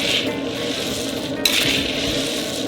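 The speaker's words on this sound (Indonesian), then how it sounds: "Dan kita mengisi kuali dengan kacang mentah berikutnya." Raw peanuts are tipped into a large wok for frying in a big batch, giving a steady hiss and sizzle with a sharp clink partway through.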